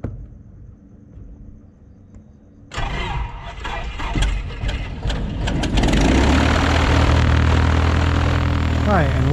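Light aircraft propeller engine at Bankstown coughing into life after a quiet stretch, then settling into a loud, steady, close-up run.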